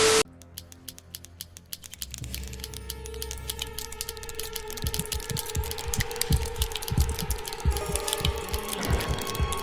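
Many ballpoint pens click rapidly and repeatedly, first sparse and then building into a dense, overlapping barrage of sharp mechanical clicks that fills the scene.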